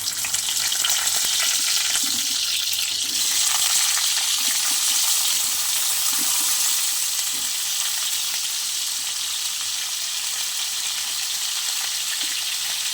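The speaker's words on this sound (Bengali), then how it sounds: "এখানে জিরে ফোড়ন দিয়ে দিয়েছি ফুলকপি আলু এখন দিয়ে দেবো" Cauliflower and potato frying in hot oil with cumin seeds for a Bengali curry, a steady loud sizzle with stirring throughout and no talking.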